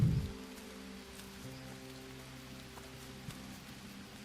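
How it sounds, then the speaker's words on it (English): Steady rain falls in the jungle survival video game Green Hell, a faint, even hiss of drops on surfaces with a soft low hum beneath it and a brief thump at the very start. "It's been raining a long time in this game."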